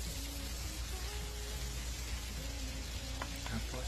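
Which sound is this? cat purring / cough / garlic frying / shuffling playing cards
garlic frying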